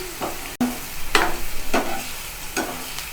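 Ginger garlic paste and onion fry in a pan for mushroom masala, a close, fairly loud sizzle punctuated by a sharp click and several rhythmic scraping stirs, with nobody talking.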